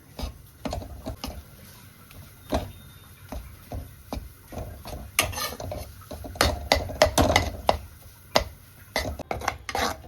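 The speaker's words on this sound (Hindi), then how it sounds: "आपको बिल्कुल भी छोड़ना नहीं है इसको लगातार थोड़ी थोड़ी देर में चलाते रहना है।" Food being stirred continuously in a pan on the stove over medium flame, repeated clinks and scrapes of a spoon against metal at an uneven rhythm over a faint sizzle, growing busier toward the end.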